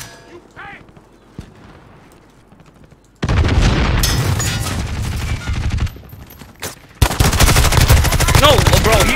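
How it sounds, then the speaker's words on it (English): Bursts of gunfire in the video game Warzone, including pistol shots, rattle loudly and in rapid clusters across most of the span after a quieter opening, with brief gaps between volleys. "With a pistol, fuck me up"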